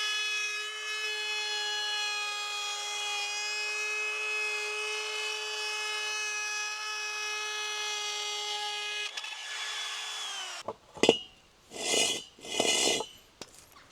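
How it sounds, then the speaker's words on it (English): Power tool cutting a circle in plywood for a camper pull-out kitchen: a steady, loud, tonal whine runs unbroken for about nine seconds, then winds down, followed by several short bursts of rough cutting noise. "So now that I've got that circle cut, I need to trim that bit of ply to a square to fit in here."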